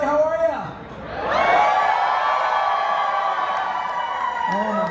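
Crowd cheering and whooping at a Power Rangers convention panel, a loud roar that swells after a brief dip and holds steady, with a voice speaking over it at the start and end.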